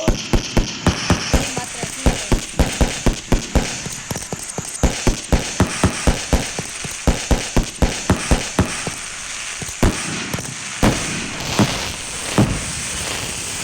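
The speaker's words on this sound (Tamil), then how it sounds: "கோல்டு டைட்டானியம் போட்டு ஒரு வெடி இருக்குது. இந்த வெடி பற்ற வச்சு பார்ப்போம்." Gold titanium firecracker goes off in a rapid string of sharp cracks, dozens of loud pops in quick steady succession that thin out toward the end, followed by a few scattered bangs and a voice.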